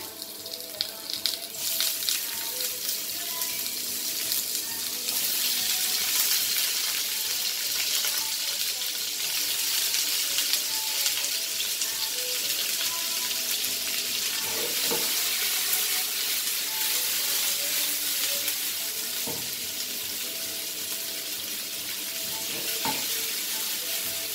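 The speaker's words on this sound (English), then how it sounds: "Add my onions to fry." Onions fry in about two teaspoons of oil in a pan for mutton sukha. The soft, steady sizzle and crackle carries on without a break, with occasional clinks and no voices.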